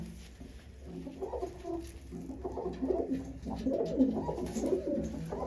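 A Madras pigeon cooing nearby, a string of soft low throaty coos that rise and fall, alone and fairly quiet.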